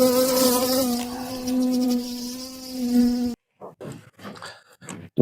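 Honeybees buzzing at an opened hive in an apiary: a loud, steady drone with a clear hum for about three seconds, then the sound cuts off and a voice speaks.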